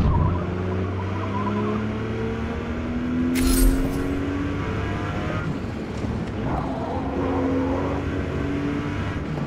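A Porsche 911 in Forza Motorsport sliding through a drift, its engine droning steadily with a brief burst of tire noise partway through, constant loud racing sound throughout.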